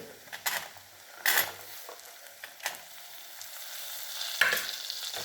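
Garlic sautés in hot oil for garlic kulambu with a soft, continuous sizzle, broken by several sharp scrapes and clanks of a spatula stirring against the pan.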